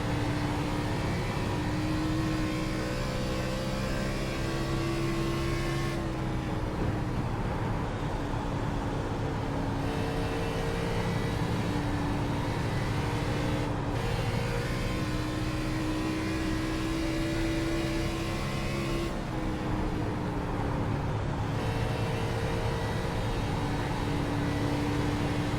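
A beat-up race car roars around Dover in a sim racing league game, its engine droning loud and steady with repeated pitch rises and drops at each gear change, and no voices over it.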